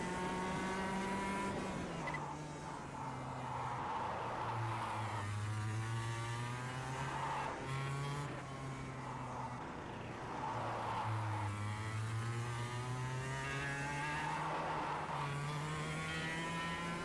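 Go-karts race in the KartKraft video game, with an engine whining steadily up and down in pitch through corners and gear changes and tyres squealing now and then, continuous and with no one talking.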